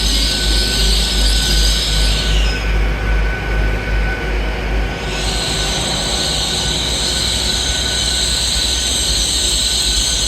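A long train rolls past on the rails at close range, with steady wheel rumble and sustained high metallic ringing and squeal that dips midway before returning, continuous and loud throughout.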